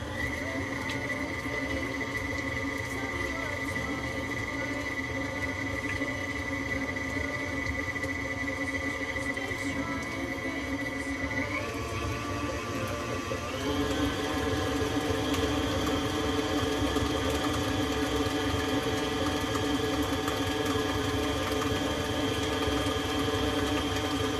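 An electric mixer beating molasses cookie dough: a loud, continuous motor whine with steady hum, shifting up to a higher speed partway through and running on without pause.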